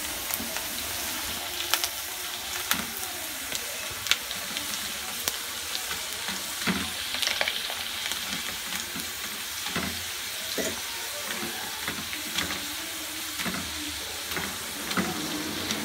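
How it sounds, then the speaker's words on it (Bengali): Flower-shaped pitha, piped from a syringe, frying in oil over medium heat, giving a steady dense sizzle with scattered sharp pops and crackles throughout, fairly close and with no talking. "পিঠাগুলো ভাজার সময় চুলার আঁচ মিডিয়ামে রাখতে হবে"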